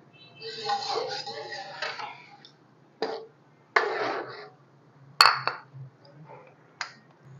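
Goat liver curry is served from a pot, with scattered clinks and scrapes of a metal spoon against the pot and dishes, a couple of bright pings, and short bursts of nearby movement and breathing between them.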